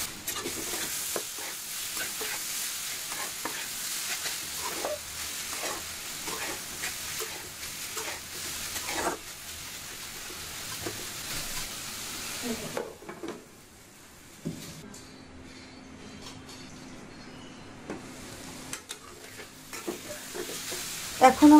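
Chopped amaranth leaves frying on low heat as a utensil stirs them, a steady sizzle with repeated scraping strokes that drops to a quieter hiss partway through, then a couple of clanks at the end.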